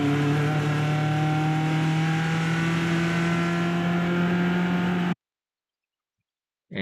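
Race car engine at VIR North, loud and steady with a strong droning tone for about five seconds, then cutting off abruptly into silence as the driver lifts off the throttle before a corner, with a brief burst returning at the end.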